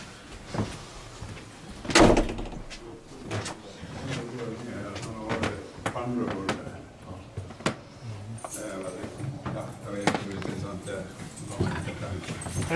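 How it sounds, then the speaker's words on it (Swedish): In a concert hall's backstage dressing area, a door opens with a sharp knock and clatter. Scattered creaks and bumps follow while people talk throughout. "här är den i dörren som jag öppnar där"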